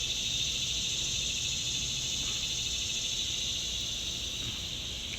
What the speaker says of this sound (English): Hey, you hear those cicadas?